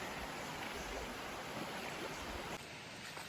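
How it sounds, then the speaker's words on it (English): Cold river water rushing steadily during a river-trekking wade toward a waterfall in El Nido, Palawan, a dense, continuous close-up wash with no talk, easing slightly near the end. "Another river crossing over here."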